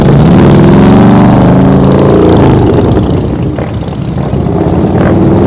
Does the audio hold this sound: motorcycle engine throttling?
yes